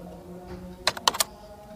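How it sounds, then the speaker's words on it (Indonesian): A computer keyboard gets a short burst of typing: about five quick, crisp key clicks bunched together in the middle, close and clear over a faint background hum. "untuk audio keyboard ini cek terlebih dahulu"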